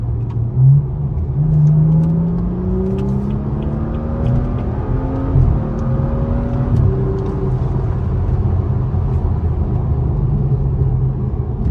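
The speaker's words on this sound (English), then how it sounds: "if I put it in sport, with transmission sport, you get that instant CF transmission" A BMW F30 with paddle shifters pulls hard in sport transmission mode, its engine note climbing in steady sweeps with quick breaks at each gear change, a loud, continuous close-up drone with no talking.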